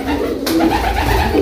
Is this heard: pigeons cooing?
yes